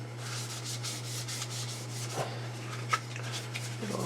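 Repeated rhythmic rubbing of a cloth on a model's surface while wiping it down with 90% isopropyl alcohol, a steady scrubbing swish close by over a constant low hum, with a few small taps.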